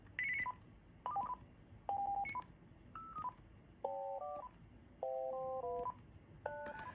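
A Uniden D1660 cordless phone plays a series of short electronic tone chirps in different pitches, bursts spaced apart like a ringtone melody, clear and close.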